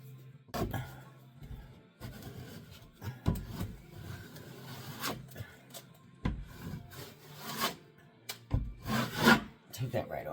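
Drywall joint compound is sanded by hand in a series of separate rasping strokes, each a short scratchy swipe followed by a pause, close to the listener, with a little muttered talk between strokes.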